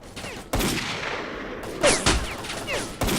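A player's gun firing in STALKER: Call of Pripyat, several loud, sharp shots in short bursts with clear gaps between them and ringing tails that decay before the next burst.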